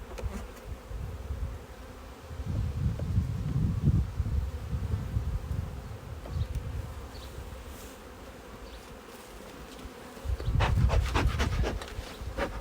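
Honeybees buzzing around an open hive while a frame is placed for queen rearing, a close, continuous hum that swells in louder bursts with faint rustling and no voices.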